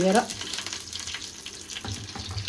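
Large prawns coated in ginger garlic paste, salt and turmeric frying in a pan, a steady close sizzle with brief stirring noises, no talk.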